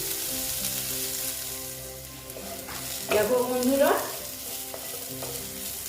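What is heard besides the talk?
bitter gourd frying in pan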